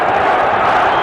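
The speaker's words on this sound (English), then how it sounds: "Many yelling Tyson." Arena crowd at the 1997 Tyson–Holyfield bout yells and chants Tyson's name, a brief, loud, dense roar of many voices with no break.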